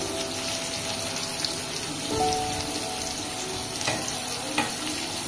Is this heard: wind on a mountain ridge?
no